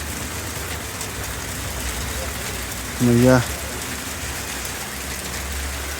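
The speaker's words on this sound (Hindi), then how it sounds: "फिर से ओले गिरने लगे।" Hail pelts down steadily in a valley near Vaishno Devi, a dense, even patter filling the scene throughout, with a brief voice breaking in partway through.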